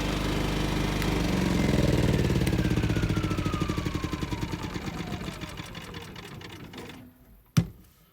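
A Champion 3400 watt inverter generator idling with no load, a steady close mechanical drone that gradually fades and winds down, ending with a sharp click near the end.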